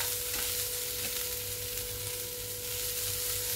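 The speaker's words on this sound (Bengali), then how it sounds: "দিয়ে আবার একটু নাড়াচাড়া করে নিলাম।" Taro stem curry with cashews and raisins being stirred in a pan, a continuous soft frying hiss under faint scraping strokes, with a steady background hum and no voices.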